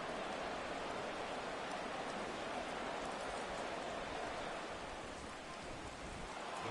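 Steady rain pouring down across a football stadium on a rainy night in Madden 24, a dense, constant broadband hiss with no break, with no voices over it.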